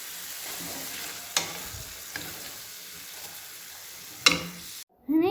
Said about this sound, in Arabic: وغادي نحركو الكل جيدا بمعلقه خشبيه